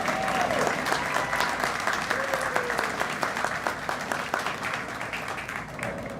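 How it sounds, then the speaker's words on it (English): An audience at a culinary and warehouse graduation applauds the culinary graduates, a sustained wash of clapping from a large crowd, even and moderately loud, with faint voices and a brief whistle-like tone mixed in. "How about a big final round of applause for all of our culinary graduates?"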